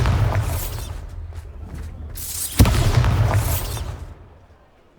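Bombarda spell blasting in Hogwarts Legacy, a booming explosion up close with rumbling low end, a sharp second bang midway, then the roar trailing off into quiet before a final burst at the end.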